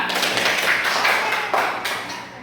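A classroom of students claps for a classmate who has just led the Indonesian national anthem, a dense, steady patter of many hands close by that thins slightly toward the end.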